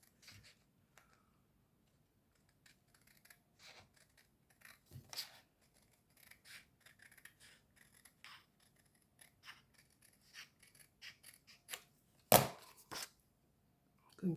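Scissors snip through a Christmas gift pouch made for diamond painting, with faint, scattered cutting clicks that come closer together midway, a sharper, louder burst of snips near the end, and quiet between cuts.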